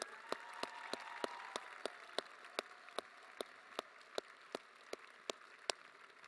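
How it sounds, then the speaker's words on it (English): Faint, distant applause for mothers, fathers and siblings at a student scholarship reception, a soft wash of clapping crossed by sharp, evenly spaced single claps about three times a second. "Please give your mothers and fathers and siblings a round of applause too."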